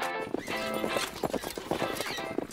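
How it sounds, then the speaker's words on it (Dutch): A horse gallops with rapid rhythmic hoofbeats and neighs over busy cartoon music and effects, continuous and close throughout. "Een paard rende naar de baby toe."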